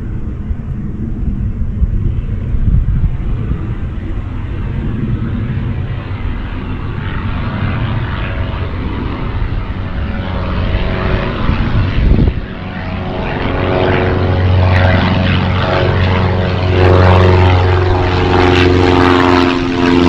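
A light propeller airplane departs runway 28 right on a solo local flight: a loud, steady engine drone builds and shifts in pitch as it accelerates, with no voices.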